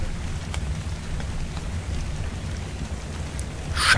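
Steady rain hisses and patters in the survival game ARK: Survival Evolved, with low rumbling underneath like distant thunder, a continuous dense wash of sound without voices.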